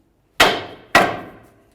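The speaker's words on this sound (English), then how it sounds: "now we'll be paying attention in this area while I give this a couple taps to try to break it free some more" Two sharp hammer strikes ring out on a front steering knuckle of a 2012-2016 Subaru Impreza, evenly spaced about half a second apart, each a loud metallic clang with a ringing decay, close up with no talk.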